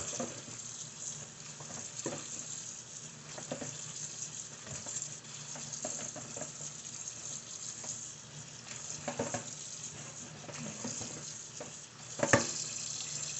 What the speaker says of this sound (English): We're just we're rinsing and stopping the cooking process with cold water.